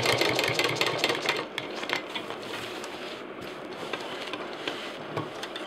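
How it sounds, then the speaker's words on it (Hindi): Sewing machine stitching the corner of a handmade backpack, a steady rapid mechanical whirr of needle strokes that slows and pauses midway, then resumes with intermittent bursts; close and fairly quiet, no talk. "वहाँ से मशीन स्टार्ट करेंगे कॉर्नर पे निशान लगाते हुए।"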